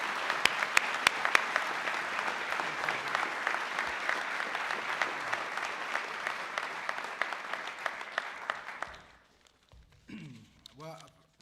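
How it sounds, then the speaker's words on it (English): Audience of U.S. veterans breaking into loud, sustained applause with sharp individual claps on top, lasting about nine seconds before fading into quieter room noise and a voice. "Let's give Jose a big round of applause"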